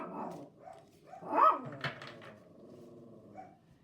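A dog gives a few close barks and yips with whimpering between them, irregular and fairly loud against a quiet room.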